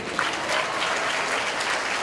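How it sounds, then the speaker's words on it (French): Steady applause from an audience, many hands clapping at once in a continuous, fairly loud wash of sound. "Vous applaudissez par ses qualités de professeur."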